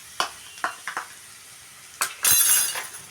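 A spoon scrapes and clinks through freshly ground ginger garlic paste frying in a pan, several short stirring strokes followed by a louder burst of sizzling near the end.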